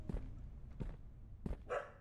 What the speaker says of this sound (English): She's barking at the door.